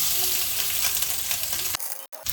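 Loud, steady sizzling of grated coconut frying in a pan, with stirring scrapes, then a sudden drop and a brief cut near the end.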